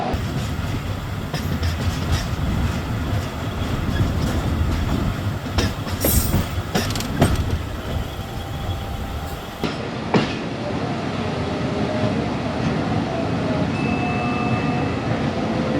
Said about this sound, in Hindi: एक्सप्रेस अप्रोच बना रही है मियाँ चन्नू रेलवे स्टेशन पर। यहाँ पर स्टॉप नहीं है लेकिन ब्रेकें लग चुकी है